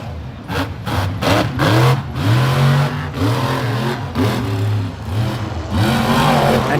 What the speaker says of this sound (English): Paul Jensen, Jurassic Attack, hits the racing lane.